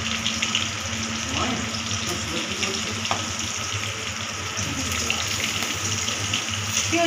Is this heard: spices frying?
yes